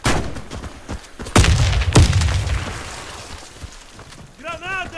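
Grenade blasts in the shooter Warface, two sharp booming bursts with rumbling decay, followed by a voice speaking.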